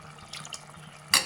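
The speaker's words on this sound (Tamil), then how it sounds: "அந்த தண்ணியில் தான் ஊற்றுறேன்" Water is poured into a cooking biryani masala: quiet trickles, then a short, louder splash at the end.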